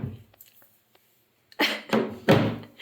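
A cabinet door swings shut during household cleaning, giving two or three close, solid knocks and thuds after a brief quiet pause.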